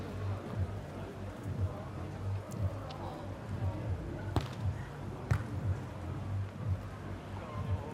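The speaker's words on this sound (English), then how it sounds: "Rain still falls as out is the call." Rain falls steadily on an outdoor beach volleyball court during a semi-final match, a constant soft hiss with occasional sharp thuds, beneath a commentator talking.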